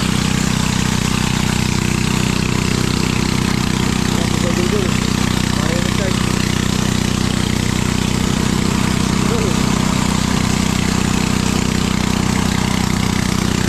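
A loud, continuous engine drone comes from a rice threshing machine working through wet palay at harvest time. The steady mechanical roar fills the whole stretch, with faint voices buried beneath it.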